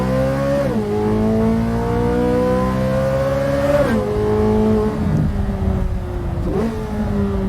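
A Corvette C8 Z06 engine revs loudly up close, its pitch climbing steadily and then dropping back several times in a row.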